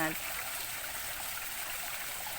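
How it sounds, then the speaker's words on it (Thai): Clear water flowing down a small decorative waterfall among flower pots, a soft continuous trickling rush heard close and steady after a brief tone at the start. "มีดอกไม้สวยๆแล้วก็มีน้ำตกใสไหลเย็น ไหลลงมา"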